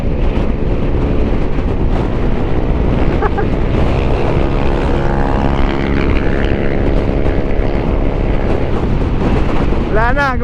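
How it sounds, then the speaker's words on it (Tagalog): Strong wind buffets the microphone in a constant loud roar while riding a motorcycle on a steep, gusty mountain road in Dingalan, Aurora, with engine drone underneath and a voice briefly audible. "Pucha Lord, sobrang lakas ng hangin"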